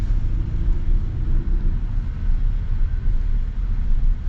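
A 2025 GMC Sierra 1500 Pro full-size pickup with a 4-cylinder engine drives along, its low, steady engine and road rumble droning continuously at moderate loudness with no talking.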